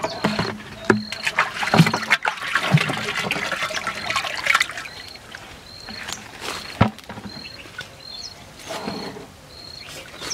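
Jivamrit being stirred into a 200-litre barrel holding about 150 litres of water, with sloshing and splashing in irregular surges, occasional knocks, and a faint high tone in the background.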